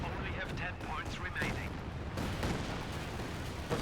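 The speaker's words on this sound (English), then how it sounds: "Artillery firing down, they're almost taking out the assaults with each retreat here." Artillery fire in Company of Heroes 2, with bursts of shelling and gunfire in a dense battle soundscape, thumping blasts and crackling shots rolling on steadily throughout.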